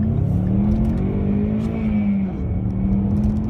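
A Ford Mustang EcoBoost accelerates, its engine note climbing steadily then easing, a loud, close rising hum with a steady droning tone and no voices.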